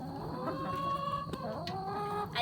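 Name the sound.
chickens clucking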